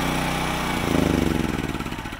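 A warm gas generator catches on the first pull and settles into a steady, loud, close mid-pitched running drone with a slight pulsing idle.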